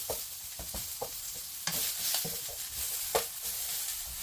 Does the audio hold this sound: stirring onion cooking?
yes